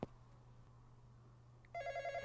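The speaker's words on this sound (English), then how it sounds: "I'm getting a phone call." A phone rings in a Roblox game: a steady electronic ringtone of rapid repeated beeps that starts late and continues loudly to the end, over a low background hum.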